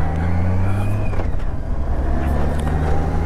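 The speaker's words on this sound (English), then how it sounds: "Look like this car not even going to stop." A car engine hums on a street, heard from a moving motorcycle at a U-turn, a steady, close rumble that rises slightly as another vehicle goes by, without talk.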